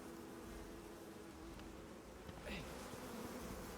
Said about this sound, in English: Oh, right, more bees.